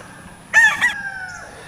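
Boston-bloodline gamefowl rooster at a game farm gives one loud, close crow of about a second over quiet outdoor background noise.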